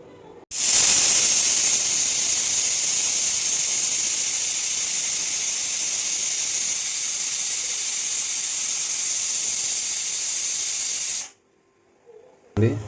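A pressure cooker cooking tomato toor dal lets out one long, loud, steady steam-whistle hiss that lasts about ten seconds, then cuts off abruptly.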